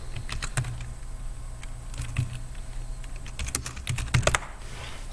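Fingers tap on a computer keyboard during an online class session, a quick irregular run of clicks with short clustered bursts, close and fairly quiet, with no talking.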